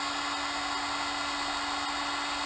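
A Wickes heat gun blows air on a cool setting, a steady unbroken whoosh with a constant whine running through it and no pauses across the short stretch.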